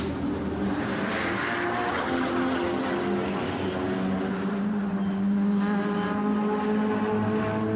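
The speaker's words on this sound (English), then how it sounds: "Cars making their way to the grid lineup right now." Porsche Carrera Cup race cars head out toward the grid at the Nürburgring, a continuous layered engine drone from several cars at moderate distance, the pitch shifting slightly as they roll along, with no talk.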